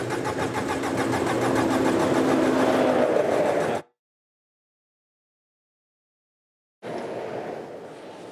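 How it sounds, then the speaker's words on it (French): A broken-down car on the A6 autoroute in France, its battery running low, cranks loudly with a rapid rhythmic churning for a few seconds without catching, then falls silent before a fainter, brief second try. "Le dépanneur ne parvient pas à faire repartir le véhicule"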